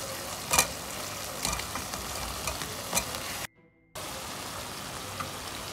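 Fried idlis go into a hot pan and get tossed, giving a steady sizzle and frying hiss with a few sharp clatters of stirring and a brief silent gap.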